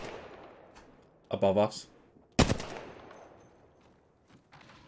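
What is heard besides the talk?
gunfire in the video game Apex Legends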